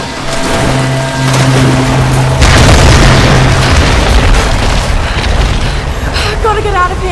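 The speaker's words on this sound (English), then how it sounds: "Now, I'm gonna set this stuff on fire." In the Tomb Raider video game, flammable stuff is set on fire and goes up with a loud booming burst, followed by a roaring, crackling rush of flame that stays loud for several seconds.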